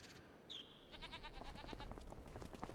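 Goats and sheep bleat in a Farming Simulator farm game, with one clear call early on followed by a steady, mid-level run of overlapping bleats and livestock noise.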